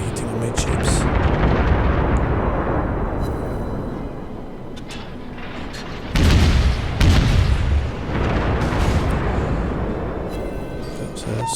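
Warship guns fire armour-piercing shells in a naval video game, heavy booming blasts over a constant rumbling din, with a couple of louder bursts midway.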